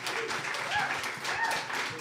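Audience applause for guests at a live broadcast event, a dense continuous patter of clapping from a crowd, steady and moderately loud, with a few voices mixed in.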